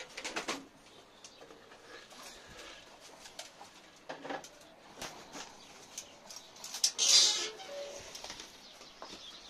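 Pigeons being fed in a loft, with soft intermittent coos, wing flaps and scattered shuffling sounds, mostly sparse and close, with a brief louder flutter near the end.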